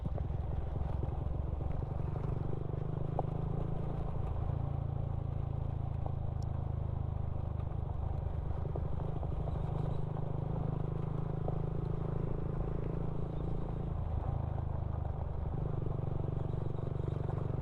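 Motorcycle riding near Pantabangan Dam, a steady, continuous engine drone with low rumble and wind, close and constant throughout with slight shifts in pitch, no talking.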